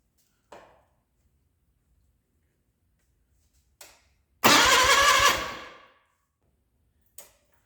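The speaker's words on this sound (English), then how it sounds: "We're going to make sure it cranks over." A 1989 John Deere 420 garden tractor engine is cranked over in one short, loud mechanical burst that fades out, set between a few sharp clicks in an otherwise silent space.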